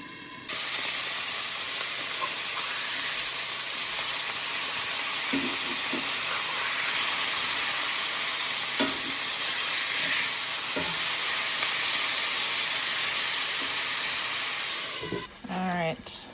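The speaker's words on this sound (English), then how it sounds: "put a lid on it to help steam it and cook it a little bit faster" Frozen hamburger patties sizzle and steam under a lid in a pan, giving a steady, loud hiss with faint crackles throughout.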